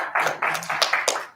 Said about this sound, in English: you guys just give me a round of applause